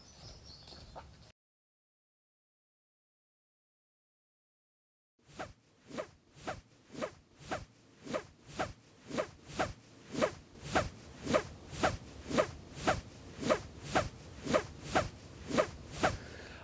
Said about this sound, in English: My corduroy trousers are making a noise.